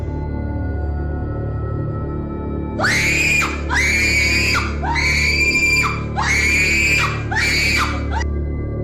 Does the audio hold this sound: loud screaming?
yes